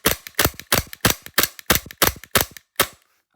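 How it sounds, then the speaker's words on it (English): A Tokyo Marui G19 gas airsoft pistol fires a rapid string of sharp, close, loud snapping shots in an even rhythm, about nine cracks in three seconds, each with a short metallic slide clack, ending in silence. "we just rattled off 50 shots in a row there with no problem whatsoever"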